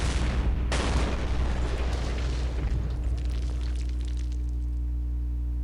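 Artillery or tank gunfire in a WWII strategy video game on the Western Front: a loud booming blast with a sharp onset, rolling into a long decaying rumble over several seconds.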